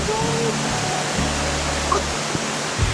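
A secluded waterfall in the Italian countryside roars with a steady, broadband rush of falling water, close and continuous, while a low hum and faint voices sit underneath.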